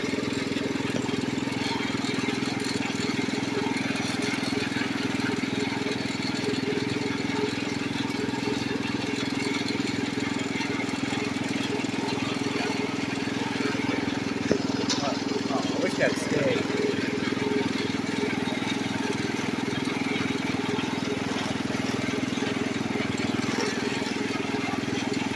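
A 1973 Wheel Horse 8 four-speed garden tractor engine runs steadily and loudly outdoors, a constant low drone with no letup throughout.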